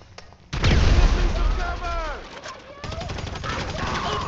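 A grenade blast in Grand Theft Auto V bursts loudly with a deep boom, followed by scattered gunfire and whistling debris, with voices shouting over the chaos.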